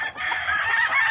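Chickens at a poultry yard give one loud, drawn-out call lasting about a second, close and clear.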